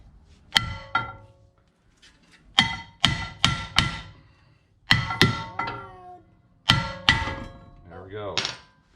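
Hammer blows knocking a front brake rotor off the hub of a BMW 340i, sharp metallic clanks in clusters of three or four hits separated by short pauses, loud and close.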